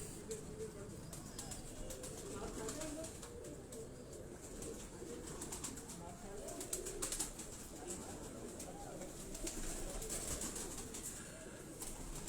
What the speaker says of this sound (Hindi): ये उनका उड़ने वाले कबूतरों का उन्होंने रखा हुआ है, और वहाँ भी परवाजी कबूतर हैं उनके